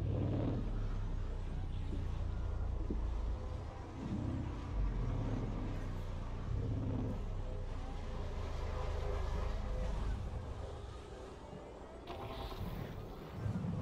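An SRV ground vehicle in the game Elite rolls along with a steady low engine rumble and drone, continuous throughout with slight dips, close and fairly loud.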